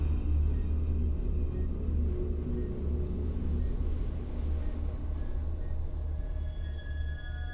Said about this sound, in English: Oh, my controller's just vibrating up a storm here.